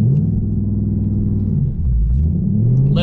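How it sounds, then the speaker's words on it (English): A 2024 Ford Mustang Dark Horse with a six-speed manual rumbles through a launch-control start, its deep engine drone loud and continuous with a brief sag midway. "Should be able to floor the clutch and the accelerator, have it stand still, and then I'll slowly release the clutch and accelerate."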